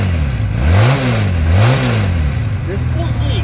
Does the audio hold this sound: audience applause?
no